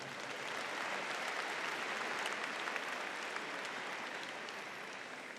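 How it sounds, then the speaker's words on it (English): A crowd at a Class of 2015 high school commencement ceremony applauds: dense, sustained clapping at an even level through the whole stretch, somewhat distant and hall-like. "Big round of applause, thank you."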